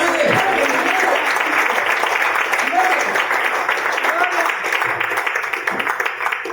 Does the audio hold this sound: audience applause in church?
yes